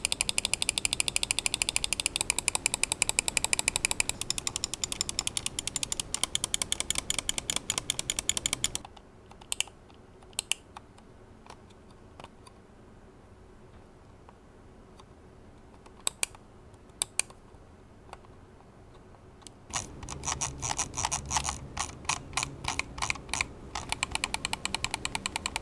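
Sharp plastic clicks from the TTC switches of a Vancer Gemini Castor computer mouse come in dense rapid bursts at the start and end, with a quieter stretch of sparse single clicks in between.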